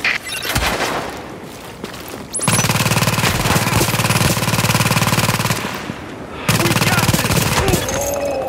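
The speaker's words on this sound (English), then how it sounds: "With all that gunfire drawing the Riker's attention" Sustained automatic gunfire in Tom Clancy's The Division, loud rapid bursts of machine-gun fire with brief pauses, opening with scattered shots and intense near-continuous volleys through most of the stretch.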